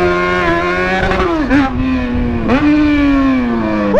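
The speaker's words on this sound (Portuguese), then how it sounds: "Tinha esquecido o tanto que berrava essa moto." Motorcycle with its original exhaust removed, roaring loud and close as the throttle is blipped twice, the engine note dipping and climbing between steady high-revving stretches.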